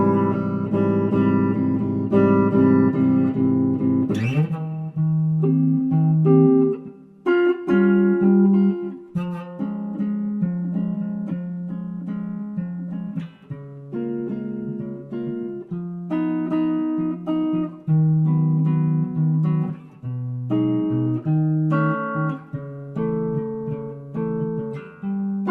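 A jazz tune played in a negative harmony arrangement on a synthesized keyboard-like instrument, with a sustained chord opening and then a clear, moderately loud melody over changing chords, with no talking.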